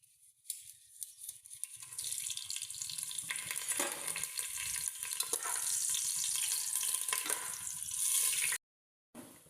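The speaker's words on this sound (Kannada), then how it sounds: "ಈ ಎಣ್ಣೆಗೆ ನಾವು ಹೋಲ್ ಸ್ಪೈಸಸ್ ಮತ್ತು ಈ ಪಲಾವ್ ಎಲೆನ ಹಾಕೋಣ" Whole spices and a bay leaf dropped into hot oil, a sudden bright sizzle that swells into steady, close frying crackle for several seconds before cutting off abruptly.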